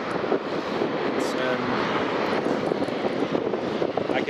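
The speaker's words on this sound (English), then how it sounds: "I can hear this King Air taxiing." A Beechcraft King Air turboprop taxiing at Aberdeen Dyce Airport, its engine a steady broad roar throughout, close and loud with wind noise, while a person talks.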